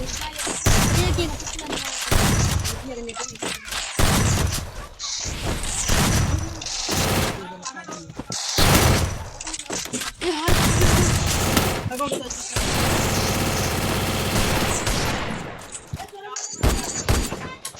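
Gunfire sound effects in a Hindi story: loud bursts of rapid shots and booms in clustered volleys separated by short gaps, with voices talking between them.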